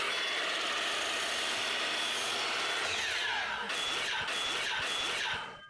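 A saw works continuously through scrap board, cutting it into six-inch pieces with a dense, steady rasping whine that holds for several seconds close by, then trails off at the end.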